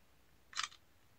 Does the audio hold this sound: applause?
no